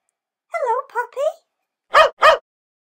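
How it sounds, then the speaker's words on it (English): A dog gives two short, sharp barks close up after a few whining, whimper-like vocal sounds, with the barks standing out clearly in a quiet setting. "It's Poppy. Poppy the dog."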